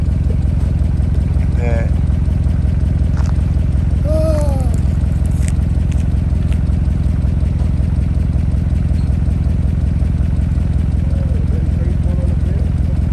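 A 1957 Chevrolet Bel Air engine, running for the first time after more than 20 years off the road, idles steadily and blows white smoke. It makes a continuous low rumble close by, with voices talking over it.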